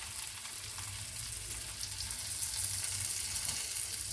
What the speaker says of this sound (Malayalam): ഇളക്കി തിരിച്ചും മറിച്ചും ഇട്ട് ഇളക്കി എടുക്കാം